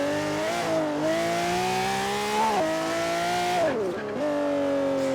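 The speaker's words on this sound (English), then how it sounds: "that's the first big highlight, is that noise. AMG V12." A Pagani Zonda's AMG V12 engine in Forza Horizon 3, revving loudly and holding a rich, steady high-pitched howl that climbs through the gears with brief dips on the shifts.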